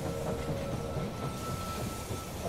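A train pulling into a station in the strategy game They Are Billions, a dense continuous rumbling clatter of rail wheels with a faint high whine, steady and loud throughout the short stretch.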